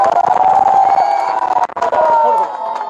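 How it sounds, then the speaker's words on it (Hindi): Crowd of voters at a village panchayat election rally cheering and whooping loudly nearby, with a dense wash of overlapping shouts and voices. "ये मोहब्बत की भीड़ है, ये हनीफ प्रधान जी की भीड़ है"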